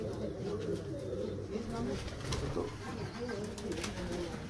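Teddy pigeons in a loft setup cooing steadily in low, rolling calls, with a voice speaking faintly in the background.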